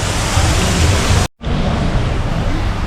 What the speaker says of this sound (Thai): มีน้ำตกเทียมด้วย